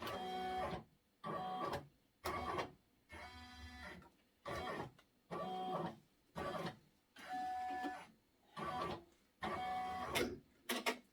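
A Brother multi-needle embroidery machine traces a monogram design on a baseball cap in a hat hoop, giving about ten regular bursts of mechanical whirring separated by short pauses, close and moderately quiet.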